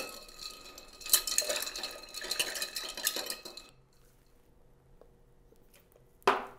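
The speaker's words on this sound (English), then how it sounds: "All right, stir, stir, stir." A spirit-forward cocktail stirred with a bar spoon in a mixing glass, a quick rattling swirl of ice and metal clinks for a few seconds, then near quiet and a single sharp knock at the end.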